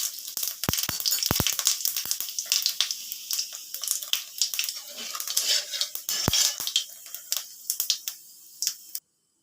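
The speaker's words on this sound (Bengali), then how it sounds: "এই টকটাতে আমি 5 ফোড়ন দিচ্ছি" Five-spice seeds spluttering in hot oil for a sour lentil dish, with sharp crackles and pops over a bright sizzle, close up, fading out near the end.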